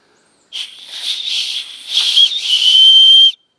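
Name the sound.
whistle on a ferro rod survival kit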